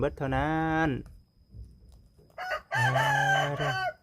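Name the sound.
chickens crowing and clucking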